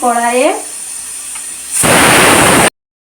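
Marinated chicken hits hot mustard oil in a wok, setting off a sudden loud hissing sizzle that lasts about a second before cutting off. A short voice sounds at the start.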